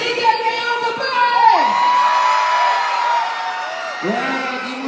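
A live concert crowd of singles at a Battle of the Bands show in San Nicolas, shouting and cheering loudly and steadily all the way through, with a sustained whoop or yell rising above the roar.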